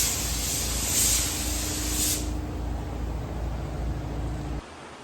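A spray gun lays paint onto a 1965 C30 dually truck, making a steady, close, continuous hiss that eases slightly midway and then cuts off sharply near the end.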